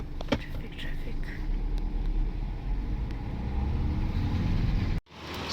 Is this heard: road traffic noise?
yes